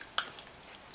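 Mushy graham cracker being eaten, soft wet chewing and squishing close to the mouth with one small crunchy bite, quiet and brief.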